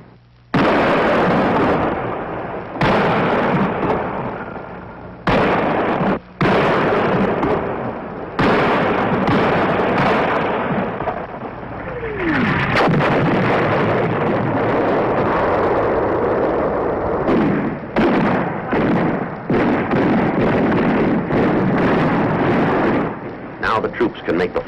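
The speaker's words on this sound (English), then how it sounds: "The command decision is to call for artillery fire support to dislodge them." An artillery barrage in Vietnam roars with repeated heavy booming blasts and dense rumbling, loud and close, and a voice speaks over the noise at times.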